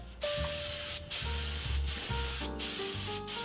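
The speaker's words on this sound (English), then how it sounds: "Now we can spray it up." Repeated bursts of spray hissing as finish is sprayed onto a wooden sample box of many timbers, in several pulses separated by short pauses, with faint background music underneath.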